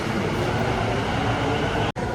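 A metro train rumbles steadily from inside, a loud continuous rolling roar that cuts out abruptly near the end.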